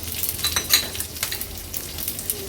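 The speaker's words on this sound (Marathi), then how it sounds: "फोडणी व्यवस्थित आपल्याला परतून घ्यायची आहे।" Chickpeas, chopped green chilies, dried red chilies and long ginger strips sauté in hot oil, giving a steady close sizzle with scraping stir sounds and short spatters, with no talking.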